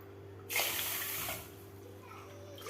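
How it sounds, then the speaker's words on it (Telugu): Several cups of water poured into a pot to make sugar syrup for gulab jamun, a single pour lasting about one second, moderately loud and close. "ఇందులో 3 నుంచి 4 కప్పుల వరకు వాటర్ని యాడ్ చేయాలి."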